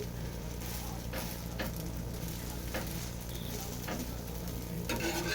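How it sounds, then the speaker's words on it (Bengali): Vegetable gola roti fries in ghee on a pan, a steady close sizzle throughout, broken by several soft scraping thuds as the roti is flipped and turned. "এবারে উল্টো পাল্টা এভাবে উল্টো পাল্টা শুধু ভেজে নেওয়া"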